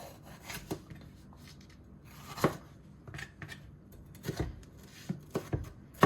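Scattered cutting and chopping sounds of a knife going through food onto a board, irregular strokes, some sharper than others, close up.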